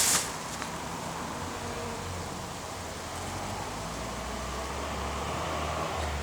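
Steady buzzing of bees working flowers close by in mid-August, a continuous droning hum with a brief louder burst at the start, no talking.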